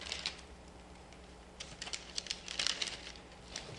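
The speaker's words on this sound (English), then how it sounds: "Rip off the top of the heater, or in some cases cut, as the case may be." Crinkly tearing and rustling of a SurePak flameless meal heater pouch being ripped open at the top, a quiet burst of papery rips and crackles building toward the end, close by.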